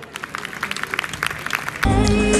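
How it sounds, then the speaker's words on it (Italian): Audience applause at an outdoor summer awards evening in Leporano, Italy, honouring local women; scattered claps build into a dense, loud burst of clapping near the end. "Un applauso."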